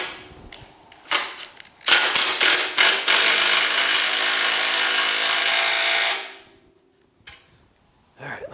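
A power tool drives a spring compressor on the front suspension of a GTO restomod, opening with a few short ratcheting bursts and then a steady whirring run of several seconds before it winds down, loud and close.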